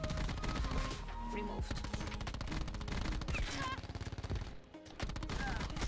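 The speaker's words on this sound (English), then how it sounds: "I'm honestly more satisfied with the noises this weapon makes than the actual camo itself." Rapid automatic fire from the Lion Mastercraft gun in a first-person shooter video game, loud sustained bursts layered with sharp game effects, briefly dipping near the end before resuming.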